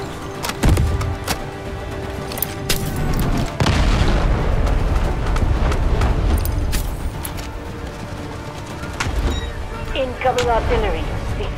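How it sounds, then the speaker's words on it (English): Cruise missile strike in the Delta Force Hawk Ops video game: heavy booming blasts and rumbling explosions roll through a chaotic battlefield, loud and dense, with shorter pops and mechanical clatter scattered throughout. "Cruise missile launch."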